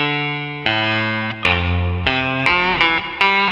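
Preset C on a Nux MG300 effects processor, a distorted electric guitar tone with a low octave added, playing a series of sustained chords and single notes that change every half second or so, loud and alone.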